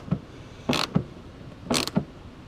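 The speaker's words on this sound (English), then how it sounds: "So I'm just tightening these back down to make sure they're good and tight." A wrench tightening mud flap bolts on a vehicle, two close ratcheting creaks, each a short burst with clicks on either side, separated by about a second; no talking.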